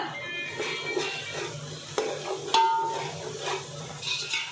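Ginger-garlic paste and ground chilli paste frying in a pot for Ambur-style chicken dum biryani, giving a soft steady sizzle with occasional spoon scrapes and knocks against the pan.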